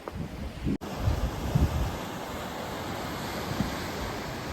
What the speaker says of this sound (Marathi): हा पुढे तो समुद्र ॲक्च्युली या समुद्रात उतरणं धोक्याचं आहे